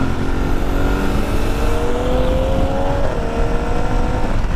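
A 2026 Aprilia Tuareg motorcycle engine drones steadily close up while riding, its pitch climbing then dropping as it shifts gears smoothly, with constant wind and road rumble and no talking.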